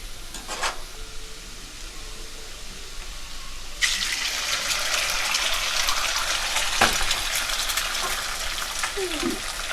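Eggs sizzle and fry alongside potatoes in a pan, a low frying hiss that jumps louder partway through as the eggs go in, then steady crackling with a few stirring scrapes.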